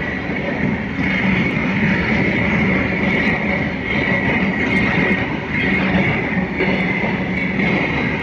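A freight train of tanker wagons rolls past close by, a continuous loud rumble with rhythmic wheel clatter and a steady high whine, with no voices.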